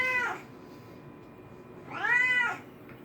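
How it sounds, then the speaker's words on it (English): A 12-year-old pet cat meows twice for water from a faucet, two clear, drawn-out cries separated by a quiet pause, close and fairly loud with no talking. "This is our cat, Sammy."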